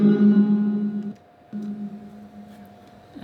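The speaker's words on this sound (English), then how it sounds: "So one of my favorite parts in the beat is this cello that I added before the beat drops." A sustained cello part from a hip-hop beat plays two long bowed low notes with a short gap between them, clear and alone with no voices.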